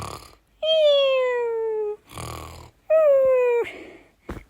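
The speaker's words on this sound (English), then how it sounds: "I'll tell them to stop snoring." Two long, loud snores, each a drawn-out nasal tone that slowly drops in pitch, sound close up, with short breathy sounds in between.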